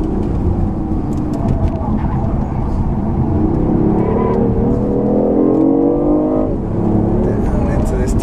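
A 2015 BMW i8 hybrid sports car accelerates hard on a racetrack, its engine note climbing steadily in pitch through a long pull before a brief dip and a fresh rise, loud and close, with someone talking over it throughout.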